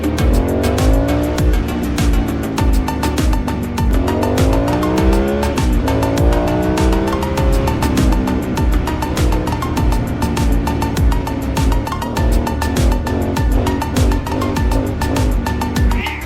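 A 2008 Aprilia Shiver 750 motorcycle engine revs hard again and again, its pitch sweeping up repeatedly in loud, close bursts over a constant roar.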